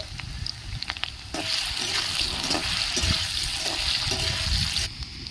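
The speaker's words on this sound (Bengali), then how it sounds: "আলুটা একটু লাল করে ভেজে নেব" Potato pieces frying in hot oil for a watermelon-rind dish: a steady broadband sizzling hiss swells in after a quieter start, holds evenly for several seconds with a few small pops, then drops back near the end.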